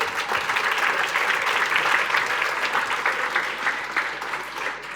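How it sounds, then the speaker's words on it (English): Seminar audience applause fills the room, a continuous dense clapping of many hands that holds steady for several seconds before tapering slightly at the end. "So a big hand of applause for Martin."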